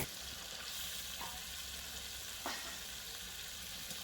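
Prawns hit a pan of oily, well-cooked Bengali masala for sar chingri, giving a steady close sizzle with a couple of brief spatter bursts, and no talking.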